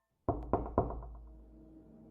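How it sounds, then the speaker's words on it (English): Someone knocks on a home's front door in winter: three firm, evenly spaced raps with a hollow wooden ring that dies away slowly. Nothing else is heard. "there was a knock at the front door."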